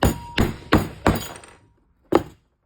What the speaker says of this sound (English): we're gonna go ahead and hammer this.